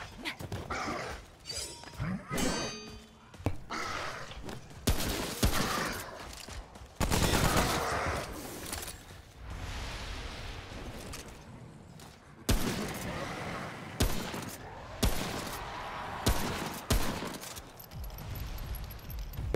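Repeated bursts of gunfire hit enemies in Remnant From The Ashes, loud clustered shots and volleys separated by short pauses, with rumbling game ambience and occasional quieter impacts across the stretch.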